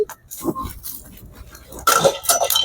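Peanuts dry-roasting in a hot pan are stirred with short bursts of scraping and clattering against the metal, loud and close, with no talking.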